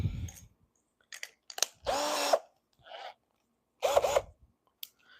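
An Amazon-bought cordless drill, an older unit used during speaker tweeter repair, runs in two bursts of about a second each, with short clicks and handling sounds between them, close and fairly loud with no talking.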